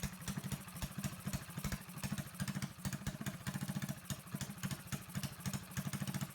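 A Predator 224 small engine with a Mikuni VM22 clone carburetor running rich, a steady, fast, lumpy thumping idle with mechanical clatter, heard close and alone.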